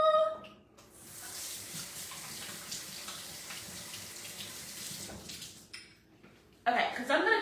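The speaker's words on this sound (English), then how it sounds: "I think I'm going to go wash my hands" Tap water runs steadily into a sink as hands are washed, a broad continuous rush lasting several seconds that cuts off, then a brighter splash returns briefly at the end; a voice is heard faintly.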